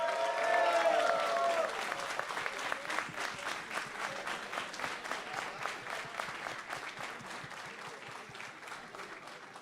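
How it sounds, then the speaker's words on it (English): Sustained audience applause fills a hall at an esports grand final, loud and dense at first with a brief tonal sound over it, then settling into steady clapping that continues evenly throughout. "Keep clapping, please,"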